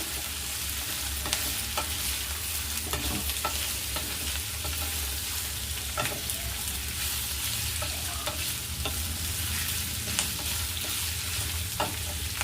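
Vegetables for veg fried rice, including beans, sizzle steadily in a hot pan under a dense, close frying hiss, with scattered spatula scrapes and clinks as they are stirred.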